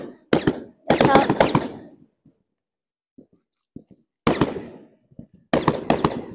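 Fireworks go off outdoors in loud bursts of rapid crackling pops, several clusters separated by pauses with scattered faint bangs between them.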